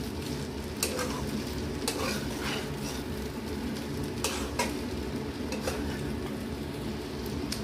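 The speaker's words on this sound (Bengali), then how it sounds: "চিকেনটাকেও এবারে সঙ্গে মিশিয়ে দিলাম।" Chicken stirred into sizzling mixed chow mein in a hot pan, a steady close fry hiss with repeated sharp scraping clinks of a spatula against the metal as everything is tossed together.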